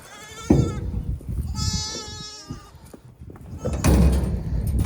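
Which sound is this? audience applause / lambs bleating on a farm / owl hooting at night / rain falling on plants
lambs bleating on a farm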